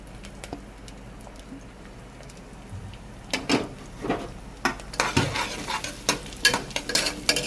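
Onions sautéing in hot oil for mutton curry, a soft steady sizzle broken by irregular louder scrapes and clinks of a spoon against the pan in the second half, close up.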